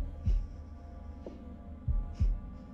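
Heartbeat thumps in The Devil in Me horror game, a few low, deep beats spaced irregularly over a steady hum, close and alone with no talk.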